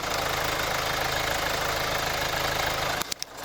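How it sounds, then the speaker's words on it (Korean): A steady, continuous diesel SUV engine idle rumbling close by with no roughness for about three seconds, then cutting off with a couple of brief knocks. "엔진 부조는 전혀 느껴지지 않고 소음 한번 들려드릴게요"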